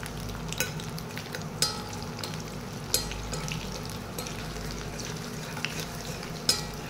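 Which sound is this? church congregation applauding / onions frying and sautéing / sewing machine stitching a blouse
onions frying and sautéing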